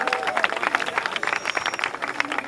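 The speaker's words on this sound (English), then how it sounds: "Give them a round of applause as well." Crowd applause follows a North Babylon parade, with scattered, crisp claps from a moderate-sized crowd at middling distance. The clapping comes in an uneven, lively patter with a faint murmur of voices behind it.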